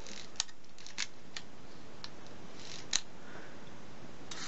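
The rotary shutter mechanism of a Keystone Olympic 35 camera is wound by hand, giving a series of small, close mechanical clicks and ticks at irregular intervals over a faint steady hiss.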